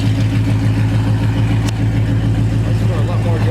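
A 2012 Shelby GT500 idling with newly fitted long tube headers: a loud, steady low rumble with a rhythmic burble holding even throughout, close by, with a voice talking faintly over it.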